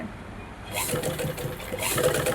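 A sewing machine stitches fabric in a short, soft mechanical run, while a voice talks over it.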